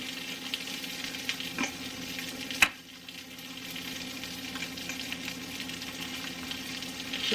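Sausages sizzling in a frying pan with a steady crackling hiss, briefly broken by a sharp clatter as they are flipped, then the frying resumes close by without talk.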